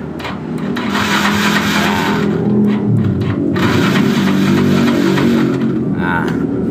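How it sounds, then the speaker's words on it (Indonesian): A Yamaha Mio 125 fuel-injected scooter engine is started with the electric starter, then runs with a loud, steady, rough drone close by for several seconds. "Lalu kita coba starter bro."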